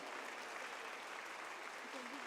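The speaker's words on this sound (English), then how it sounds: "Let's give her a huge round of applause." An audience applauds a student at a school annual day, a dense, fairly quiet wash of clapping that carries on evenly throughout.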